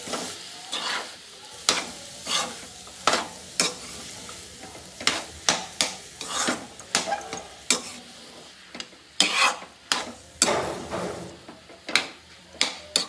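A spoon works through a spiced potato filling for aloo paratha, mixed with turmeric in a pan: repeated close scraping and stirring strokes in an uneven rhythm over a faint sizzle, with no talking.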